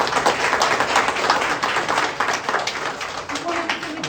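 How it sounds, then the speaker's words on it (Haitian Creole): Audience applause at a community gathering, a crowd clapping steadily and fairly close, with voices murmuring and a short tone heard near the end. "On nous applaudit."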